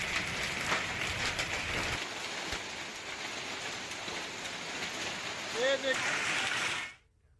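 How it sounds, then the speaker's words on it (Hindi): Heavy rain with hail pours down during a storm, a dense continuous roar that holds steady, with a brief voice rising near the end before the sound cuts off abruptly. "बारिश के साथ साथ यहां ओले भी गिरे हैं।"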